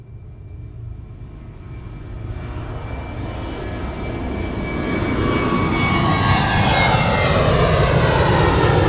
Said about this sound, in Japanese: 離陸した飛行機が一度だけ上空をかすめただけでした